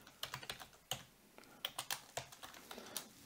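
Computer keyboard keys tapped out in quick irregular bursts while writing Arduino code, crisp close clicks with short pauses between clusters and no voices.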